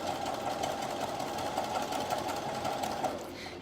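A domestic sewing machine runs continuously, stitching around the curved seam of a summer skirt with an elasticated waistband; steady, close, moderately quiet whirring hum with a fast even needle rhythm and no talk.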